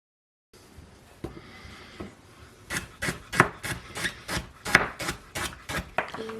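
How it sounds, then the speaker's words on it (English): A knife chops a parsnip into small, flat paysanne pieces on a wooden board. About a dozen crisp, evenly spaced strikes come close and grow gradually louder and quicker. "I'm going to cut that into a nice paisan"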